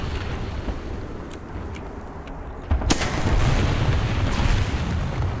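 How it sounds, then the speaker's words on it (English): Artillery strike in the War Thunder tank game: scattered distant thumps, then a louder burst of booming impacts that rumble on as a sustained, rolling barrage. "I'm going to drop some poor man smoke, which is also known as artillery"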